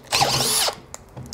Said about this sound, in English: DHP481, second gear into hardwood with a big auger on the end of it.